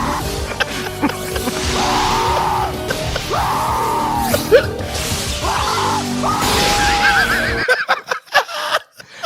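Loud, shrill cartoon screeches from the legendary bird Zapdos and other birds in a Pokemon movie scene rise and fall in several long wavering cries over rushing whooshes and crashes, ending in abrupt choppy bursts.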